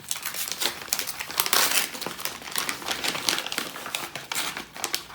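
Paper envelope of trading cards being torn open and crumpled by hand, continuous close crinkling and rustling with bursts of tearing, no talking.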